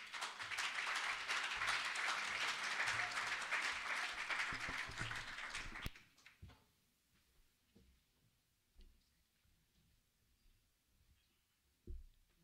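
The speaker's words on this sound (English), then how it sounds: "I'd like to ask you to give the Boesak Choir a round of applause" Audience applause for the Boesak Choir at an open lecture, a dense steady patter of many hands that carries for about six seconds and then stops abruptly, leaving near silence with faint scattered noises and one brief thump near the end.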